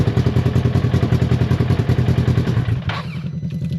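Engine of a 2024 Polaris RZR XP1 side-by-side running loud and close in a rapid, throbbing idle with clattery mechanical texture, then dropping off sharply near the end as the revs fall.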